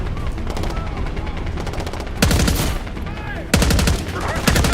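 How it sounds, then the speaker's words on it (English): Bursts of automatic gunfire in the Call of Duty Black Ops 6 video game, two loud volleys crackling over a constant din of battle noise. "We've got gunfire to the right."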